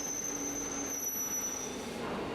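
Underground metro train braking to a stop at a station, a sustained high-pitched wheel squeal with steady rumbling rail noise underneath, loud and continuous.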